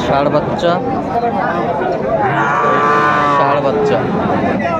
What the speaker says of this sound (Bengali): অরিজিনাল শাহিওয়ালের ষাঁড় বাচ্চা